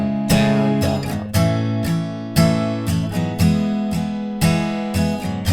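Acoustic guitar strumming the verse chords of a song in a steady down-down-up pattern, full ringing chords struck about once a second, close and unaccompanied.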